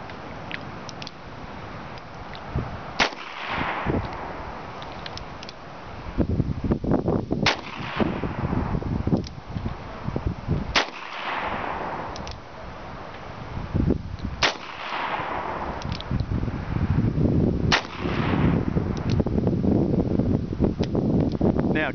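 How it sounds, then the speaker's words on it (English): Gunfire outdoors in open country, several sharp reports spaced a few seconds apart over steady wind noise on the microphone, loud and close. "Everybody knows there's fire coming out of that gun"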